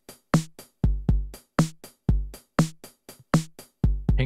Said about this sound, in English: it will play hi-hat, snare drum, hi-hat, bass drum. So it sounds like this.